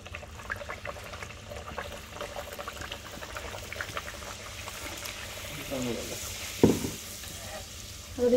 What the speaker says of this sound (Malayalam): ഇപ്പൊ ഡോണി ബട്ടൂര പൊരിച്ചോണ്ടിരിക്കണം